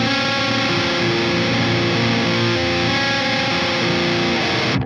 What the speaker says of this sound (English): this is a great example for an amplifier with a unique distortion character